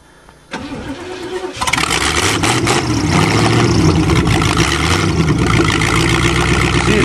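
A hydrolocked 2012 Chevrolet Cavalier engine cranks briefly, then catches and settles into a loud, steady, close-up running rumble that continues to the end.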